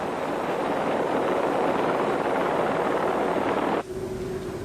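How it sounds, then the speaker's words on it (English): A loud, steady police helicopter rotor roar overhead, searching a park, that cuts off abruptly near the end, leaving a low hum. "Ex-department's helicopter, call sign India 99, uses a heat-seeking camera to search the park"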